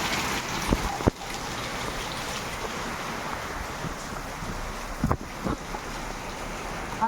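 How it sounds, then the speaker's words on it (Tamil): A storm with heavy rain and strong wind roars as a continuous broad rush, gusts buffeting the microphone, with a few sharp knocks and thuds breaking through. "அங்கே பாருங்கள் காற்று பாருங்கள் மழைலாம் எப்படி அடிக்குது"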